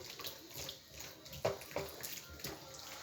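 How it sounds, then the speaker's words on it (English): Food being washed in very hot water gives faint sloshing and splashing, soft irregular water movement with a few small splashes, quiet and close. "I'm washing it in hot water"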